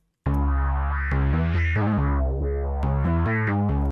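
Distorted synth preset with a Thermal distortion effect, in an FL Studio hard 2093-style beat: a loud, buzzy, harmonically dense tone playing a melodic phrase of sustained notes with gritty, warped upper harmonics, heard alone.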